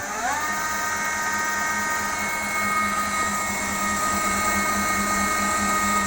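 A 1200W 60V electric drive axle motor runs in reverse with a steady, loud whine that rises in pitch at the start and then holds constant alongside a low mechanical hum.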